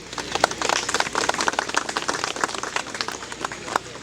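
A congregation at a funeral in Paris applauds, dense hand claps pattering unevenly for several seconds at a steady, moderate level.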